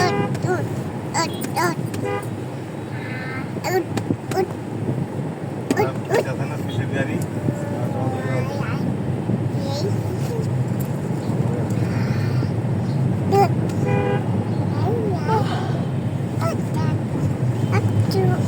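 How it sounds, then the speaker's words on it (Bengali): A car drives along a road in continuous traffic noise, with repeated short horn toots sounding throughout over a steady engine and road rumble, and voices talking faintly in the background. "আর এদিকে আমাদের গাড়ি যাচ্ছে"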